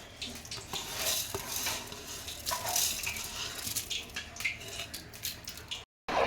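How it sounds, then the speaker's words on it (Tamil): Biryani rice is stirred into a jackfruit biryani pot with muffled scraping, soft clinks and wet shuffling, fairly quiet and continuous, ending in a brief dropout. "அரிசி போட்டு நல்லா கிண்டி விடுறோம்."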